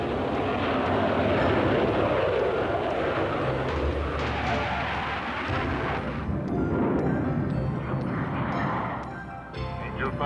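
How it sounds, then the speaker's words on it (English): F-80 jet fighters flying over Korea, a broad roaring rush of jet engines that swells and fades, with a narrator talking over it. "F-80 jet fighters sweep the skies of Yaks and Sturmoviks."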